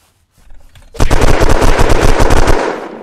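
A long, loud burst of rapid automatic machine gun fire in a video game, starting after a soft lead-in and holding a fast steady rhythm for about a second and a half before fading.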